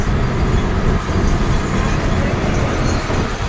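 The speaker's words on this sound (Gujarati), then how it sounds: "આ પાછળ રહી ગઈ ટ્રેન." An Indian Railways electric train runs beside a highway, passed by a car doing about 80 km/h while the train does about 70. A steady, loud broadband rumble of wheels and road noise continues throughout, with no talking.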